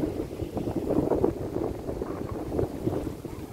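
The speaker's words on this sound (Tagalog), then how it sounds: "Napakalakas ng hangin." Strong gusting wind buffets the microphone in a steady low roar out at sea off Bahrain, with no voices, from an exposed spot on the water.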